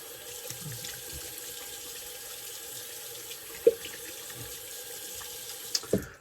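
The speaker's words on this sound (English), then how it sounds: "Rinse off the alum" Tap water runs steadily at a sink while shaving alum is rinsed off, a soft continuous wash with a couple of brief knocks near the end.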